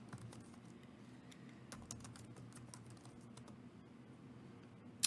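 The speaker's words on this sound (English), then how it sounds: "let me type in St. Louis" Typing on a computer keyboard while entering a location into an Excel spreadsheet: quiet, fairly close key taps in quick irregular bursts with no talking, ending on one sharper tap.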